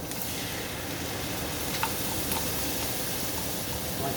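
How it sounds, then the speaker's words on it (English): Cream poured into a hot pan for chicken Alfredo with fettuccine, producing a steady close sizzle and bubbling with faint stirring clicks throughout and no voices. "Right now I'm going to add in the cream."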